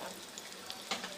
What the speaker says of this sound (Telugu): ఆనియను, పోపు దినుసులు అన్నీ వేసేసుకొని ఒకసారి కలుపుకొని మంచిగా ఫ్రై అవనివ్వాలి